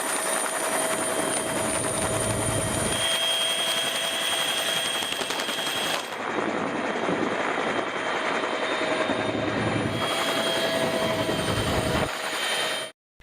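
Rescue helicopter flying over a flooded residential area during heavy cyclone rains in Tamil Nadu, a steady loud rotor and engine drone that holds throughout with shifting whine, no voices.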